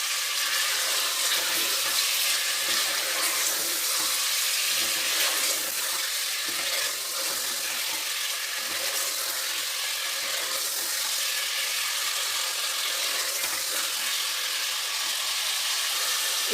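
Thick beef pieces for nihari fry in a pressure cooker with a steady, dense sizzle and crackle that holds evenly throughout, no talking.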